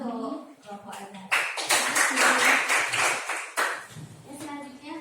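Students in a classroom clap together for a group, a burst of dense hand claps lasting a few seconds with speech before and after.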